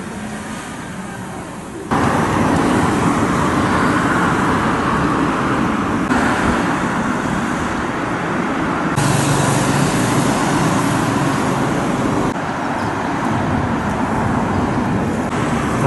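Heavy road traffic rumbles at a city intersection in Hiroshima where many buses are lined up, a steady loud wash of engines and tyres running continuously, with no talk.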